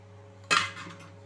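Paneer pieces hit a metal cooking pan for paneer hariyali masala, giving one short clattering clink of metal followed by a fading rattle, close and fairly quiet over a steady background hum.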